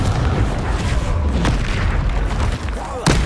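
Booming spell explosions from the Bombarda curse thunder through a troll fight in Hogwarts Legacy, dense and continuous, with game music and effects layered over the blasts.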